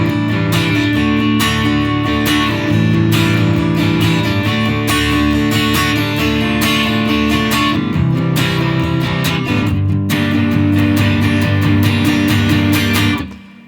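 Guitar strumming the chord progression of a song, with loud, full chords in a steady rhythm and clear repeated attacks, ringing out alone until it fades at the end.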